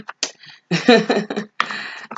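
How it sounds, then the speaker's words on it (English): Several crisp riffling bursts of playing cards being shuffled, close and fairly loud, with short pauses between shuffles. "we're shuffling the cards one more time"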